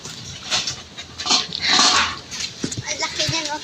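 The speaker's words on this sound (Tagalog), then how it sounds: "ito yung aso naming si Winter" A large, chubby dog barks in short, irregular bursts, some yelping and whimpering, close by with people talking around it.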